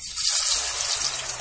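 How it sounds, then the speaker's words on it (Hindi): Moong dal poured into hot oil for frying, a loud, steady hissing sizzle up close with no talk. "अब मेरा ये जो तेल है ये गर्म हो चुका है, ये देखिए, और हम इसमें डालेंगे मूंग दाल"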